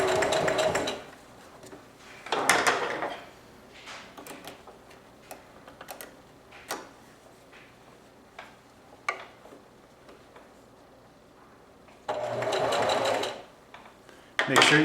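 A sewing machine stitching through the thick pleated fabric of a face mask, running in short loud bursts separated by quiet pauses with faint ticking handling sounds in between.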